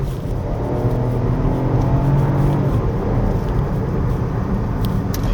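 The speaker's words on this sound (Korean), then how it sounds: "요 카메라 지나서 다시 좀 속도 올려보겠습니다" A 2025 Chevrolet Trax Crossover RS pulls hard along a winding road, its engine droning steadily with rising tones, loud and continuous from inside the cabin.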